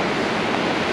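Small ocean waves of about two feet break and wash continuously in a steady, close roar of surf off the coast of Israel, with no pauses between waves.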